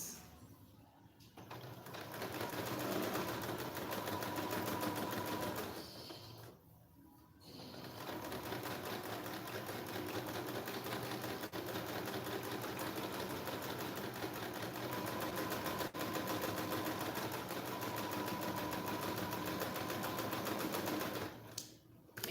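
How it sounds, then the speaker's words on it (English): A sewing machine runs in long continuous bursts stitching the lining of a two-piece jacket sleeve, a rapid mechanical whirring that stops briefly twice before resuming, close and even. "So I'm sewing a two-piece sleeve and this is the lining part of it."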